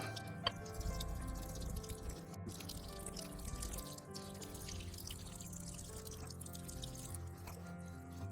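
Water runs over an Imperial La Rocca premium sharpening stone to wet it, a steady quiet splashing and trickle lasting the whole stretch with a brief drip near the start.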